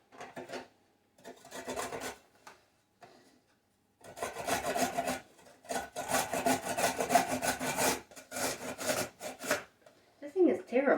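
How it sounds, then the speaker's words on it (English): Cauliflower and other vegetables rasped against a hand grater, in bursts of quick back-and-forth scraping strokes separated by pauses, close and clear. "I'm also going to take the inside of my cauliflower and grate that up as well."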